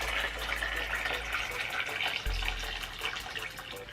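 Boiled hot water being poured into a bowl of hair dye, a steady splashing gush with a brief interruption midway before the pour resumes.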